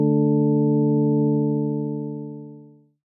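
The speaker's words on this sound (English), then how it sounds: "Add a higher pitch sine wave an octave up, but this time it's going to be quieter than our first oscillator." A synth tone of two sine oscillators, the second an octave higher and quieter than the first. It is one steady sustained note that fades smoothly to silence after about three seconds.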